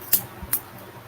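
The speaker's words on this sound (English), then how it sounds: "Let's grab the scissors." Two quick, crisp snips of scissors opening a mail package, close and sharp, with a faint third snip after them and otherwise quiet.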